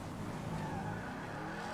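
A car engine in GTA 5 Online roars in a steady, loud drone with a slight tire hiss, continuous for under two seconds with no voices.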